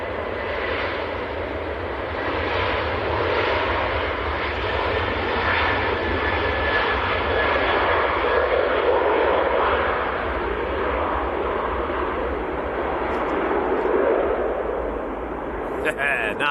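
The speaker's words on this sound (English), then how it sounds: "Aer Lingus to New York, A330. Check the wingtips as it rotates." Aer Lingus Airbus A330 bound for New York taking off at Manchester Airport in freezing weather, a loud, steady jet engine roar with deep rumble holding throughout, close and sustained.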